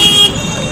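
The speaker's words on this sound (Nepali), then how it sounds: "सुन्नुभयो हर्न कति बजेको छ?" A vehicle horn blares loudly in busy street traffic, cutting off after a quarter second and leaving a dense traffic din.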